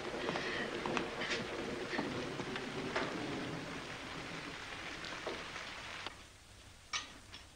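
Faint, steady rain patters on a surface in an old horror movie soundtrack set in a wax museum, with scattered drips and a couple of soft bumps, no voices over it.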